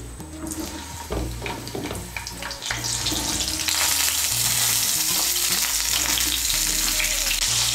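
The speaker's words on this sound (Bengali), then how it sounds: "এই তেলের মধ্যে পটলগুলো ভেজে নেব।" Peeled, cut pieces of pointed gourd (potol) fry in oil, first with scattered clatter as they go in, then a loud, dense, steady sizzle that builds and holds close up.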